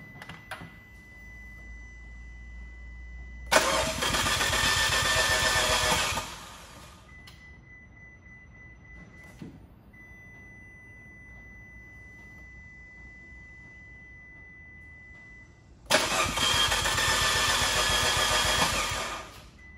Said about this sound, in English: And then I'm gonna go ahead and try to start it.